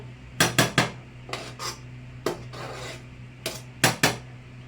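Food stirred and mixed in a pan over a low flame: a series of sharp utensil scrapes and clinks in short bursts, some paired, against a quiet steady hum, with no talking.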